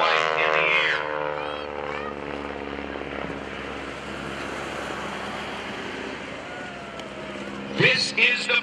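A Stearman biplane flown by John Mohr roars through a hammerhead stall turn at the 2011 Blue Angels Homecoming airshow. The propeller engine drones steadily with shifting pitch under an announcer's voice, then swells louder near the end.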